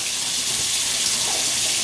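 Water is poured into a female tarantula's enclosure, a short, steady hissing splash of liquid that stays at an even level throughout, with no voices.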